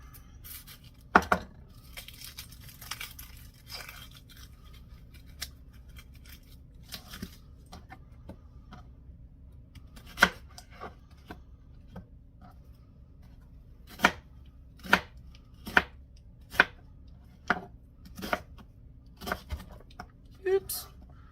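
A knife chops an onion on a cutting board in a home kitchen, sparse single taps at first, then a quicker run of sharp, distinct cuts near the end over a low room hum, with no talking.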